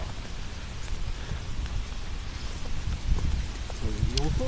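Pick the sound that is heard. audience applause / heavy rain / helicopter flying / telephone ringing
heavy rain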